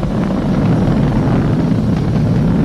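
A SpaceX Falcon 9 rocket climbs during ascent, its engines a steady, dense low roar that fills the clip without a break, with no voices.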